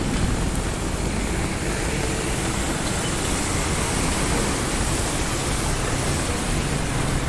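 Heavy monsoon downpour in Viman Nagar, Pune, a dense, loud, unbroken roar of rain and running water with no variation and no voices.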